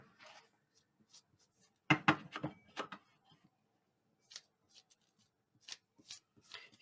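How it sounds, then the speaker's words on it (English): Paper being crumpled and wrinkled by hand while making a junk journal cover, heard as a loud burst of crinkling around the middle with softer scattered rustles before and after, no talking. "let's wrinkle it up a little more so we can get some ink on the edges here"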